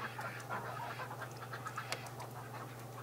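Ducks on a cold winter farm give soft, scattered quacks and breathy calls over a steady low engine hum, the birds fairly close but not loud.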